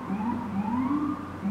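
A wailing emergency vehicle siren sweeps up and down continuously on a New York City street, fairly close and steady, with traffic rumble underneath.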